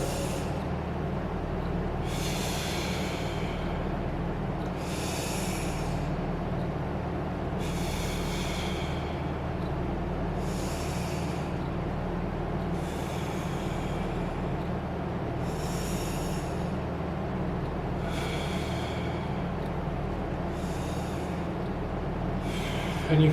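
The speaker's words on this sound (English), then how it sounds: "have 5 deep breaths through your chest" Deep breaths taken through the chest during a static postural exercise workout, with about eight slow, evenly spaced breathy rushes of air over a steady low hum, close and clear, with no talking.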